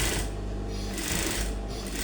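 A sewing machine runs steadily, stitching smocking on a crop top, a continuous close mechanical whirr with a rapid needle rhythm and no talking.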